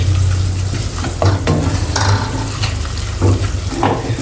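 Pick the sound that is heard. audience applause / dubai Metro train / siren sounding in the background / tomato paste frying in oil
tomato paste frying in oil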